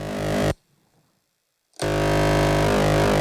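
Heavy electronic distortion tone shaped with a FUMANA effect, a dense, loud buzzing wall that cuts to near silence for about a second before returning just as thick and sustained.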